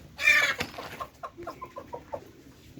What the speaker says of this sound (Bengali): এটা বেনথাম জাতের মুরগি